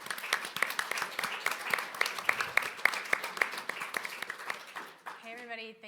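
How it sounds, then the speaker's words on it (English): Audience applause at a CPAC conference session, a steady round of clapping from a seated crowd lasting several seconds before a voice begins speaking over the fading claps. "Let's give a round of applause for Michelle"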